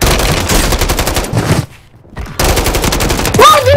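Rapid automatic gunfire from the video game Call of Duty Warzone, loud and dense bursts with a brief pause in the middle, then resuming with sharp electronic tones near the end.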